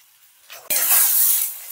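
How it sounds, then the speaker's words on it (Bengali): Spiced mashed potato filling stirred in a wok, a brief scrape followed by a steady soft sizzle and stirring noise lasting about a second, close and moderately loud. "ভালো করে মিশিয়ে নিচ্ছি।"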